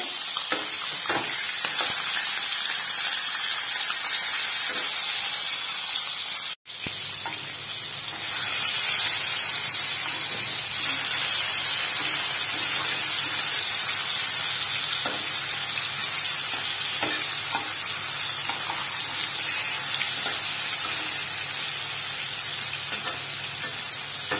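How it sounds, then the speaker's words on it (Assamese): Fish sizzles steadily as it fries in a pan for a curry with peas and tomatoes, a dense crackling hiss that runs almost the whole time, broken by one brief drop near the start, with no talking. "তাৰ কাৰণে মই মাছটো ভাজি লওঁ ভালদৰে।"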